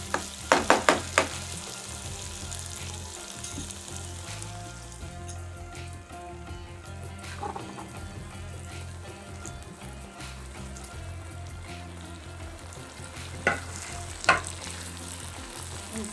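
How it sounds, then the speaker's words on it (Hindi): Eggplant frying in masala for a Kolhapuri-style curry gives a steady, crackling sizzle with occasional sharp spatula clicks against the pan at the start and near the end, heard up close with no talking. "अभी हम इसमें बैंगन डालेंगे।"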